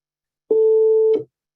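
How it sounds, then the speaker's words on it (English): A single steady telephone tone for an outgoing call, heard clean and close for under a second against silence, then cut off. "I'm just going to go ahead and make a simple phone call"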